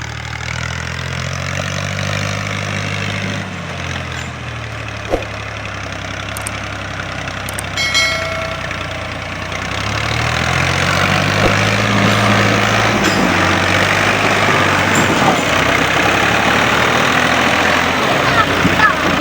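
A tractor engine pulling a loaded trolley up a rutted slope chugs steadily, its pitch rising and falling as it labors under load, then grows louder and rougher in the second half.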